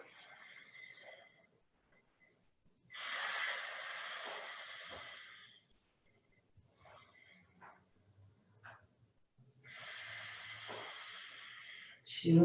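A person breathing during yoga practice draws two long, airy breaths up close, each lasting a couple of seconds, with quieter shuffling in between.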